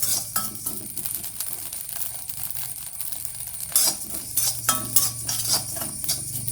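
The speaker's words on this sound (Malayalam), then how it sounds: "കുറച്ച് നനവും കൂടി ഉള്ള കാരണമാണ് ഇതുപോലെ പൊരിയണത്." Rice grains roasting in a hot wok for ariyunda, slightly damp grains crackling and popping in a dense run of small clicks and ticks, with a few louder bursts of pops toward the end.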